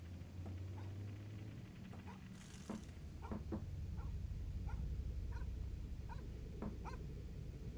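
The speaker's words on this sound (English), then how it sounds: "Dog?" A dog in the horror game Fears to Fathom gives a few short barks and whimpers in the dark, intermittent and mid-distance, over a low ambient hum with faint background sounds.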